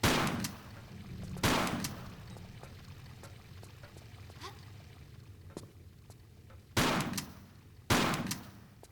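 Shotgun blasts from the Tomb Raider game, four loud sharp reports spaced unevenly across the stretch, with quieter clicks and soft ambient rumble between shots.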